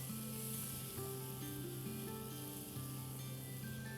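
Spiced rice with turmeric, red chili powder and garam masala is stirred on a hot tawa, giving a continuous sizzle with faint scraping over a steady tonal hum in the background.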